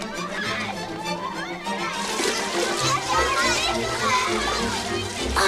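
Children shouting and playing by the water, with splashing, a busy chorus of young voices filling the scene continuously at moderate loudness.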